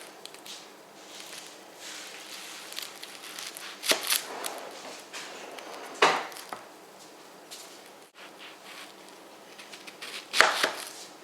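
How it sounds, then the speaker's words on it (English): A knife cuts through an onion on a kitchen board in a handful of distinct, close chops spaced a second or two apart, with quieter slicing and handling between them. "This isn't how I normally slice an onion"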